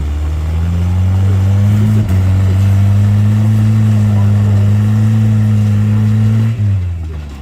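A rock crawler's naturally aspirated 22R engine drones loudly and close at a steady mid pitch. The pitch dips briefly twice as the throttle shifts, and the engine fades slightly at the end.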